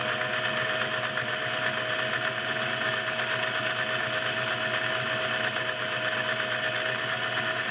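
A vintage all-metal, direct-drive Singer 503A Slantomatic sewing machine running steadily at speed, with a continuous mechanical whir and hum, close and unbroken throughout.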